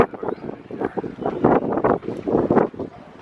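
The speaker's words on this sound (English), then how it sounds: "It's quite windy today." Gusty wind outdoors in Portugal buffets the microphone in uneven rumbling surges, loud and close, with no other clear sounds.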